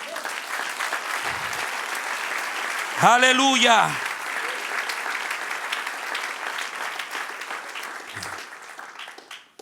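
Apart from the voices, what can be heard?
applause from a church congregation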